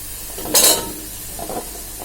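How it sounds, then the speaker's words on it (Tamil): Beans, okra, potato, carrot and drumstick pieces sautéing in a pan: a soft sizzle under a sudden scrape or clink of a stirring utensil, followed by quieter stirring taps. "முருங்கைக்காய் இதெல்லாம் நாம சேர்த்து வதக்கிக்கலாம்"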